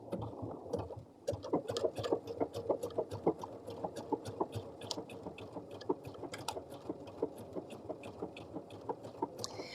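A household sewing machine stitching embroidery onto a fabric bag, running at a slow steady pace with a soft rapid mechanical chatter and regular ticking of the needle, fairly quiet and close.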